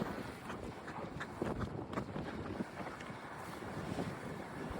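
Outdoor wind gusts and rumbles against the microphone, a steady rushing blow with buffeting bursts, close and fairly quiet with no talking.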